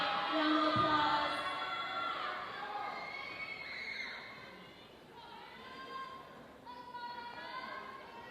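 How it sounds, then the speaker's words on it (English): An audience at a Tahitian dance competition cheers and shouts for young dancers, loud at first and then tapering, with excited voices and children's yelps over a crowd murmur. "Give them a shout out, round of applause."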